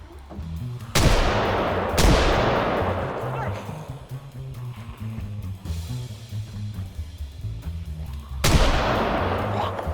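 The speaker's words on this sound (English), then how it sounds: "While fighting my way to the second story, I started shooting every zombie in sight." Gunfire in the video game Project Zomboid, three sharp loud shots spaced a few seconds apart, each followed by a decaying echo, over a low background rumble.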